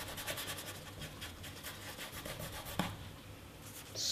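A brush scrubs wet oil paint into canvas for a wet-on-wet flower painting, a close, soft rasping rub in quick repeated strokes, with one sharp tap near the middle.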